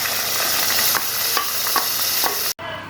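Steady hiss and sizzle of marinated country chicken frying in hot oil for biryani, with occasional stirring scrapes, close and loud, cutting off abruptly near the end.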